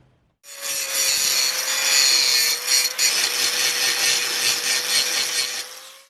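A power tool grinds through glued epoxy around a boat's through-hull fitting, making a loud, continuous abrasive rasp over a steady motor whine that wavers slightly with pressure, with no talking.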